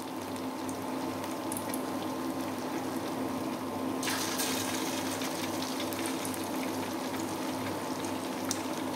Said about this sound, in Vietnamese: Giờ dầu của chúng ta nóng rồi, chúng ta bỏ vô chiên nha.